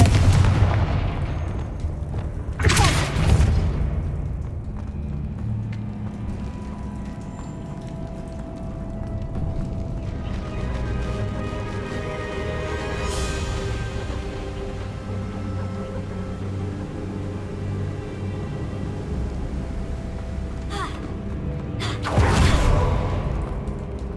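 In the Hogwarts Legacy video game, Confringo fire spells go off as several loud booming blasts with whooshing tails, one early, one midway and one near the end, over a continuous rumbling game ambience.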